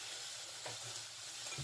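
Yellow sweet potato (boniato) frying crisply in hot oil, a steady close sizzle with soft crackle throughout, no voices.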